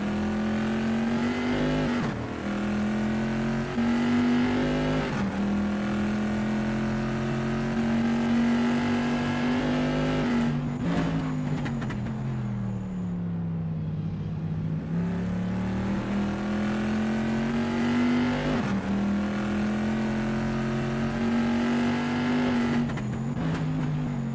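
A pre-1973 Bizzarini race car howls around Imola, its engine note held close and loud, rising and falling through gear changes and corners with a brief lift-off dip midway.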